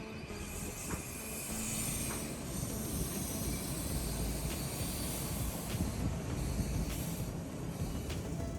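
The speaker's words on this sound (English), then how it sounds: "our train rolls into view, stopping at the high-level platform on track 1 just short of the main building" A Shore Line East passenger train rolls slowly up to a high-level station platform and stops at the end of the line, giving a steady, loud broadband rumble and hiss with faint wheel squeals throughout and no voices.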